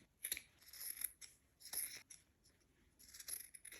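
Scissors snip excess fabric from the corners of a sewn Easter gift bag, giving several short, crisp cuts in quick succession, close and fairly quiet with no talking.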